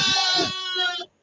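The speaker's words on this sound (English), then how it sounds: "Okay, we have goats." A goat gives a close, loud, wavering bleat lasting about a second, with a short second note before it trails off into quiet.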